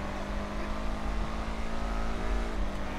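Engine of a Benefactor Schlagen sports car in a racing video game, a steady, gritty drone holding a constant pitch for a few seconds, moderately loud with no talking.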